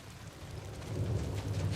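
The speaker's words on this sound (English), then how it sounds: "Oh my God, it's raining." Steady rain in the Days Gone video game, a dense, close hiss of falling drops that swells slightly louder, with a low rumble underneath and no voices.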